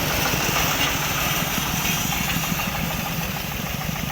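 A Mani 25 horsepower tractor engine running at idle, a steady close mid-to-low chugging drone with a faint rapid knock that holds even throughout, with no voices.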